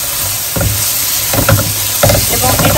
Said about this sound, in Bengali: এখন এটাকে ভালো করে মশলার সাথে কষে নিতে হবে